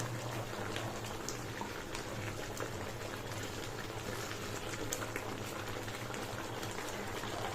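Mint chicken masala gravy bubbles in a covered pot, a dense, steady close-up simmer of continuous small pops and hissing with no voices.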